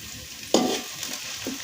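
Small pieces of ginger and garlic drop into hot oil in a pan for mulberry pickle, a sudden short sizzling burst followed by a softer crackle and a faint second flare, close and brief.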